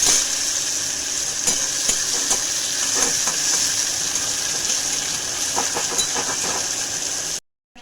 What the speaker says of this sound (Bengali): পেঁয়াজটা ভাজা ভাজা হোক।